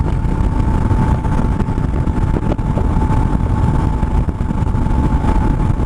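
BMW R1150GS motorcycle engine pulling hard in fourth gear at about 80 mph on Highway 101, a steady loud drone with wind buffeting.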